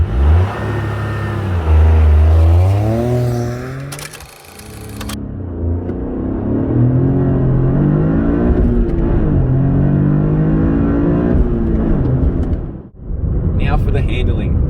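A 2023 Toyota GR Corolla GTS with all-wheel drive launches hard, its engine revving and climbing through the gears with loud rising and falling pitch, a brief shift gap, and a sudden drop before it pulls again.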